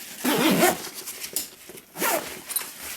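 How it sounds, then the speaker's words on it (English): A small zipper pouch on a backpack is unzipped in a few quick rasping pulls, close and distinct, with pauses between strokes. "There's a little zipper pouch here."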